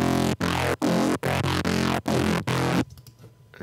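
Heavy bass synth presets layered together in Logic Pro, playing a loud chopped rhythm of about seven sustained bursts separated by short gaps, then cutting out to near silence.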